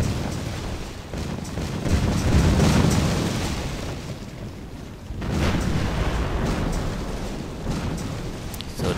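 Heavy artillery fire and rumbling shell impacts in the World War II strategy game War Leaders: Clash of Nations during Operation Barbarossa, a dense, continuous roar of booms swelling and easing over nine seconds with no talk.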